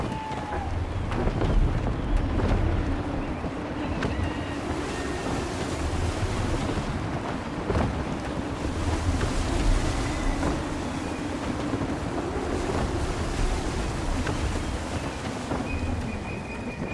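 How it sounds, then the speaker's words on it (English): Gusty wind and rolling ocean waves while sailing a ship in Assassin's Creed III, a steady loud wash of surf and wind noise throughout, with intermittent voices talking over it. "Wind looks to be shifting. Stay alert, Connor. Gusty winds can be difficult to manage."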